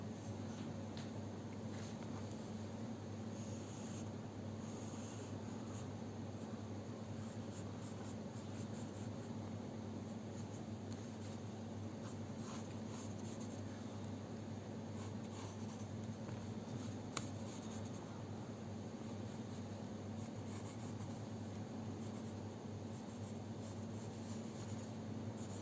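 A pencil moves across paper while a hand is sketched, a steady soft scratching and rubbing that runs continuously and close over a faint constant background hiss.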